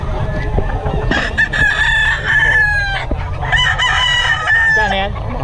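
Gamecock roosters of Boston bloodline crowing repeatedly at close range, long drawn-out calls rising and falling over a busy background of other birds clucking and rustling, with faint human chatter.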